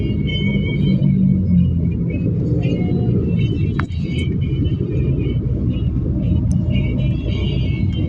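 Cars pass along a road in a loud, steady rumble of traffic that swells and fades, with a brief sharp sound near the middle and no clear talk.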